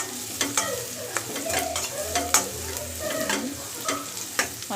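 Egg fried rice ingredients fry and get stirred in a pan, with a steady sizzle broken by repeated scraping, clattering strokes of a spatula, close and fairly loud, with no talking.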